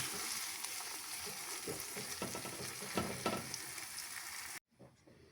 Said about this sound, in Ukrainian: і зараз додаю томатний сік